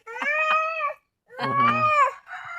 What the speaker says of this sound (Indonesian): Kucingnya lho, kucing.